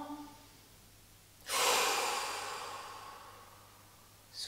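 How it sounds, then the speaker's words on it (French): A single deep inhalation during a Pilates exercise, a long breathy intake that swells quickly and tapers over a few seconds, close and alone, with a second breath beginning at the end. "Inspirez profondément."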